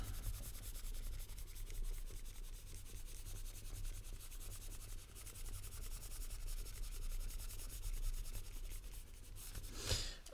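A board eraser rubs away writing in a steady scrubbing rasp that continues close and unbroken for about ten seconds, with no voice over it.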